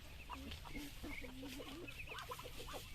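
Chickens clucking and a rooster's calls on a farm near a vegetable garden, steady clucking and short crowing phrases over a constant outdoor background, moderately close.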